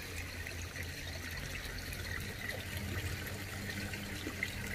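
Water trickles steadily as an overfilled koi pond drains back down, a soft continuous splashing wash that stays even and moderately close throughout, with no voices.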